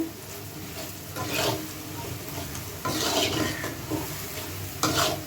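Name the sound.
onions and spices frying and being stirred in pan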